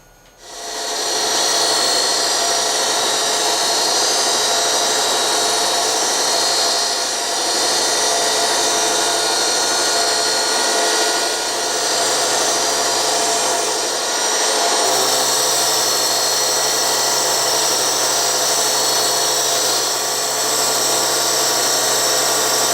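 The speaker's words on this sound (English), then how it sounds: "This is a 2-flute coated carbide end mill made by Mitsubishi for machining hardened materials." Continuous loud, harsh grinding of a Mitsubishi 2-flute coated carbide end mill cutting hardened material for a sine base, close and steady throughout with only slight changes in tone.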